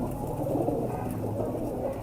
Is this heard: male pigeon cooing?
yes